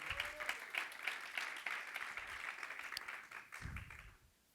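A church congregation applauds during a Spanish-language sermon, a steady wash of clapping that holds for several seconds before trailing off, with a low thump near the end.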